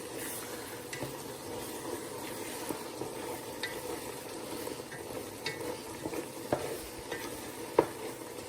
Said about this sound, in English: Just stirring it up to make sure it's not sticking